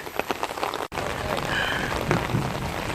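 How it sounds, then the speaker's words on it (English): Heavy thunderstorm rain pours steadily onto wet streets, a dense continuous hiss of close drops with a brief dropout and faint voices mixed in. "We are walking in the rain"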